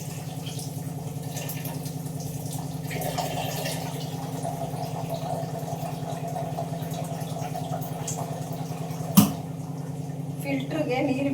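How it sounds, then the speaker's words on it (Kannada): Water runs steadily into a kitchen water filter, a continuous low, even rush with a single sharp knock near the end. "ಫಿಲ್ಟ್ರಿಗೆ ನೀರು ಬಿಡೋದು ಹಾಕೋಗ್ಬಿಟ್ಟಿದ್ದೀನಿ"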